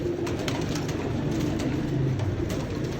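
Sialkoti breeder pigeons from a rare 50-year-old bloodline coo together in a loft setup, a continuous low murmuring of overlapping calls against a steady background hiss.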